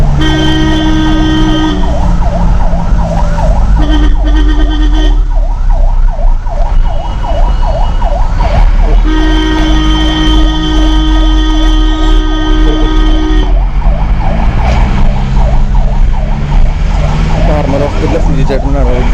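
A hospital ambulance siren blares continuously while the vehicle drives, cycling between a slow rising wail and a rapid yelp, very loud and close with engine and road rumble underneath.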